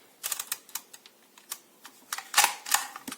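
Keys on an Artemio label maker are pressed one after another, giving a quick uneven run of dry plastic clicks and taps close up, with a louder cluster of presses toward the end.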